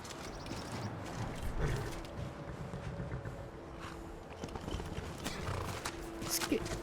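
A horse in the video game Skyrim clip-clops with soft, uneven hoof thuds, light creaks and an occasional whinny at moderate volume. No one speaks.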